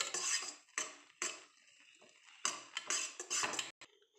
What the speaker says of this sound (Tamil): ஸ்டவ் சிம்லேயே இருக்கட்டும், 2 மினிட்ஸ் அப்படியே கிளறிட்டே இருங்க.